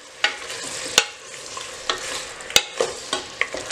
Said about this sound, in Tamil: அடுப்பு சிம்ல வெச்சிட்டு நல்லா mix பண்ணி விட்டுக்கோங்க.